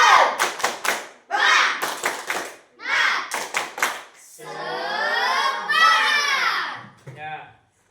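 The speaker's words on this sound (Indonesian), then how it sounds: "Tepuk semangat." A school class claps out a rhythmic chant together, with bursts of patterned clapping and children's voices shouting in unison, then a long drawn-out vocal cheer and a short final call.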